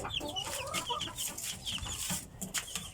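Young Bakulod-line chickens raised from a hatch cluck and chatter in a busy, overlapping flock, with quick repeated calls close by and no voices.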